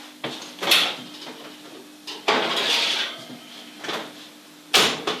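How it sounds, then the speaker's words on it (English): Tray of Scottish scones pulled from an oven: a few metallic clatters and oven door knocks spaced a couple of seconds apart, close and fairly loud, against quiet kitchen background. "I'm just going to take them out of the oven."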